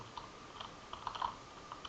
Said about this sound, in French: J'espère juste que vous entendez pas mon clavier